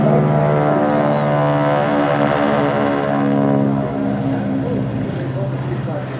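A propeller aircraft carrying Aerosuperbatics wing walkers performs a display at the Sidmouth airshow, its engine a loud steady droning hum with a rising and falling pitch, under a commentator's voice.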